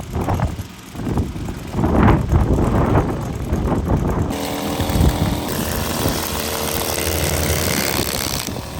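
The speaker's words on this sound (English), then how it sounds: "Proper windy today" Strong wind buffets the microphone in heavy, irregular gusts outdoors on a care home lawn, loud and close, shifting into a steadier roar with mechanical rumble underneath; no one speaks.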